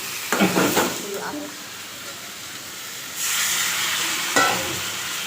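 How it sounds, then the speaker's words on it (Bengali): Long green chilies fry in a pan with a steady sizzle, broken by a few clattering stirs near the start and one more toward the end, while the hiss grows louder after the midpoint. "এই যে লম্বা লম্বা লঙ্কাগুলো ভাজা"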